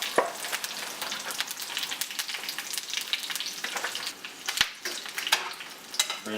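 Hot oil sizzling hard in a pan before a roast goes in, a close, loud and continuous crackling fry with sharp pops and a few metallic ticks throughout.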